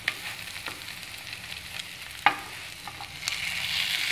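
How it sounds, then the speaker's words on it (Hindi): Bread for French toast frying in a pan, a soft steady sizzle with a few small pops and a brief clatter as a slice is flipped. No voices. "ये भी ब्रेड मेरी एक तरफ से सिक चुकी है, मैं इसको भी धीरे से पलट देती हूँ।"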